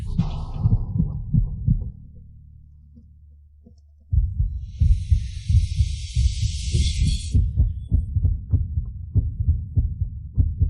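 Steady, low thumping heartbeats pulse in a regular rhythm, pause briefly under a soft hum, then resume with a higher-pitched sparkling tone layered over them for a few seconds.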